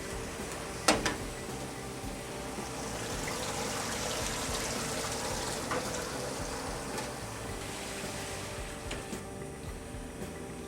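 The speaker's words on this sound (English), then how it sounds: "We turn the water back on." Rinse water running steadily over a printing plate after being turned back on, a continuous soft hiss and trickle with a brief clunk near the start, close and fairly quiet.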